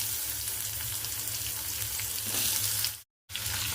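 Green chillies and chopped ridge gourd fry in a hot pan for a chutney, giving a loud, steady sizzle with a brief full cutoff near the end.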